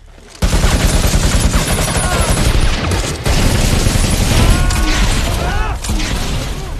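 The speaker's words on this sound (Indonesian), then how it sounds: "Di tengah peperangan, tembakan dari pasukan Michael mengenai rumah salah satu warga" Dense, relentless gunfire crackles and roars throughout, rapid bursts layered over booming impacts and whizzing sounds, loud and close, from a battle scene in an action film.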